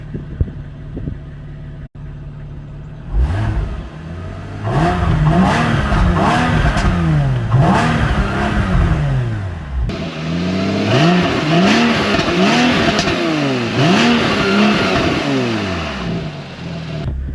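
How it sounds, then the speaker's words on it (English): A Porsche 981 Boxster engine revs repeatedly in sharp, loud bursts, the exhaust note rising and falling in a steady rhythm, close by with no talking. "so far the 981 wins on exhaust noise"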